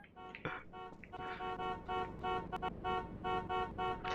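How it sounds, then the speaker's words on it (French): A car horn honks repeatedly in short and longer blasts, loud and nearby, with a brief clatter near the start. "Si vous pouvez arrêter de klaxonner."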